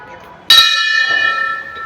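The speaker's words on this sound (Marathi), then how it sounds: "घंटी वाजवायची," A temple bell at the Vitthal temple in Akurdi is struck once, giving a sharp bright clang that rings on with a shimmering metallic tone and slowly fades, heard close and loud.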